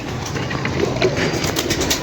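Pigeons coo softly against a constant outdoor hiss, with a few faint calls rising over the steady background noise.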